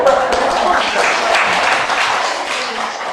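An audience at a parenting education talk claps for themselves, a dense burst of hand-clapping that stays fairly steady before easing off slightly.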